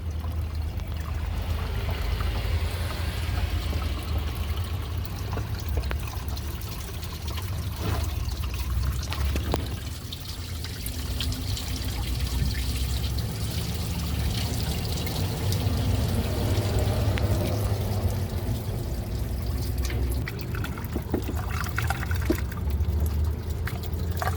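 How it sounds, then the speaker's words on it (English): Water poured through a funnel to flush a car radiator and cooling system, a continuous gurgling pour with splashes and trickling that runs steadily for about twenty-four seconds, with no talk. "Now I'm going to go ahead and dump some water down in here to flush that out."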